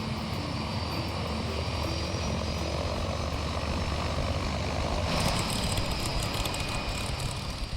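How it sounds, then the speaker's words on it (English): The twin turboprop engines of a Grumman Mallard amphibious aircraft drone loudly and continuously with a steady whine, shifting slightly in tone near the end. "The Grumman Mallard is a twin turboprop design."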